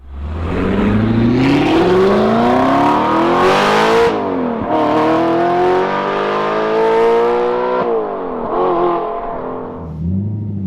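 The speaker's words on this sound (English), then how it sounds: "it will be nice to listen to and think about the different engine noises" A manual Audi R8 V8 engine revs hard and climbs through the gears, loud and close, with a throaty roar rising and dropping at each shift.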